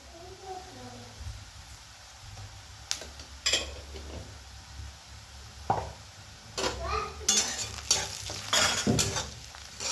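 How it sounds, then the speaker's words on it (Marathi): Turmeric, garam masala and red chilli are stirred into vegetables in a frying pan, giving a soft sizzle with sharp utensil clatters and scrapes that grow busier toward the end, with faint voices in the background. "आणि हे सगळं आपण मिक्स करून घेणार आहोत"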